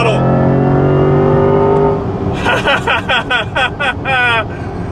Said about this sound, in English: coming out of this corner, I'm really laying into the throttle